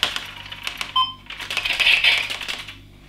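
Laser X Fusion toy blaster reloaded by shaking it with the trigger held, a short electronic reload chirp among clicks and rattles, close and fairly loud.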